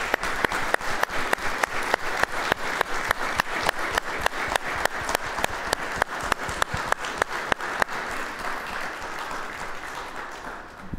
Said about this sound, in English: I think it would be appropriate to give a round of applause to them.